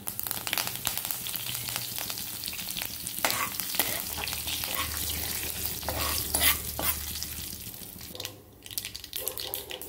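Fenugreek seeds, asafoetida and curry leaves sizzle and crackle in hot oil for a Goan pineapple curry while a spoon stirs and scrapes the pan, with steady frying hiss close by and no speech.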